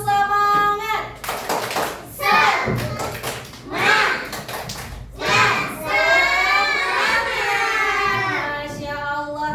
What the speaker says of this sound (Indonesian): Coba kita tepuk semangat dulu yuk.